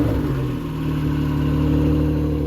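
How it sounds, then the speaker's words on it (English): An NSX car engine runs steadily at idle, a low continuous rumble with a slight dip and swell in level, close and unbroken. "So we started up just to listen to how the engine sounded."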